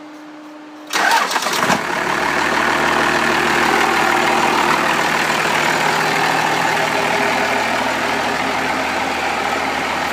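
A 1927 Ford rat rod with a diesel engine cranks and fires quickly, then settles into a loud, steady, rumbling idle close by, with a faint electric fan tone before startup.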